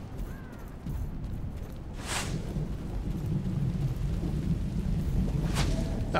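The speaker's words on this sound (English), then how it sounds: "Sit in the storm." Steady heavy rain with rolling thunder during a storm in the Neverwinter fantasy role-playing game, two bright cracks of thunder breaking through a constant loud downpour.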